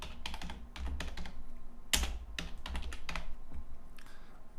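Bursts of computer keyboard typing, quick clustered keystrokes close up with short pauses between, plus a sharper louder key press near the middle, while someone builds a favicon link tag in Dreamweaver.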